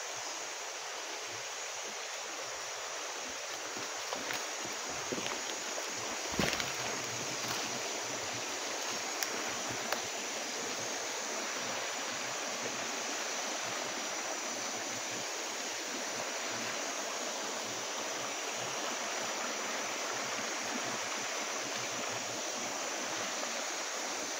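A mountain creek produces steady, dense rushing and babbling water noise that carries on unbroken, with a few faint knocks near the start and no speech.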